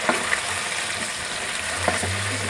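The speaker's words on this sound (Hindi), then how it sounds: "चिकन ऐड करके इसे अच्छे से मिक्स कर लें और चिकन का कलर चेंज होने तक इसे पकाना है" Chicken frying in a pan for a Punjabi chicken gravy, with a steady sizzle and a few scraping stir strokes, close and moderately loud, no talking.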